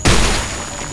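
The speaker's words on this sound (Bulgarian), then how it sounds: "Аз имам динамит." A single sudden, loud dynamite blast goes off in a video game, a sharp burst that quickly settles into a short, fading rumble.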